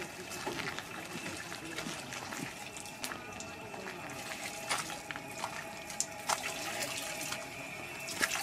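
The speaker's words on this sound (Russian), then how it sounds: "Вода хорошая, видите, вода холодная." Cold drinking water runs steadily from a tap or fountain in Rome, a continuous near splashing hiss with occasional sharper drips and knocks, no talk over it.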